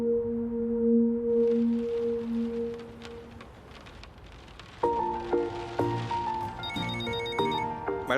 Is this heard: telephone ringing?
yes